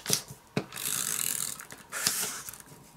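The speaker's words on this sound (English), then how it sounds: "So I'm just going to use my tape runner on the edges." A tape runner drags adhesive along the edges of a paper card, giving close, soft ratcheting and rasping strokes: a couple of sharp clicks, then two longer sweeping passes, with no talk.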